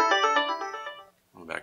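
An Alcatel-Lucent 8018 desk phone plays its ringtone while the ringing volume is adjusted: a bright, pulsing multi-tone melody that fades in level, pauses briefly, then returns as a shorter burst near the end.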